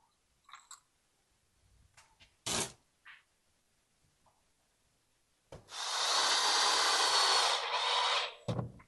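Screws are driven into a wooden deck chair armrest support, with a few scattered clicks and knocks and then a loud, close power driver whirring for about three seconds before a final sharp thump.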